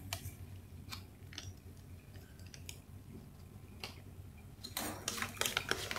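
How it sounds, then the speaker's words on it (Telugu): A steel spoon clinks and scrapes against a steel vessel while stirring a red cola-flavoured bathroom cleaning powder mixture, giving scattered sharp ticks over a low steady hum, growing busier and louder toward the end. "ఇప్పుడైతే ఒక స్పూన్ తీసుకుని మొత్తం అంతా కూడా మిక్స్ చేస్తున్నానండి"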